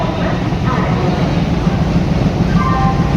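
Inside Howrah railway station at night, a loud, steady low rumble of trains and station machinery fills the space, with faint distant tones and crowd noise underneath.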